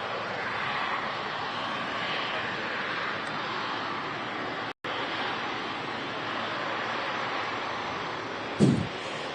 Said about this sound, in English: Also got on final approach the Saudia Dreamliner coming in from Jeddah in a special scheme as well.